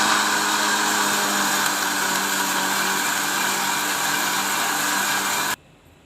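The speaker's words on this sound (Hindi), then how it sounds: "अब हम ब्लेंडर में डालकर इसकी चटनी बना लेंगे" A blender whirs steadily at high speed for several seconds making chutney, then cuts off abruptly into quiet.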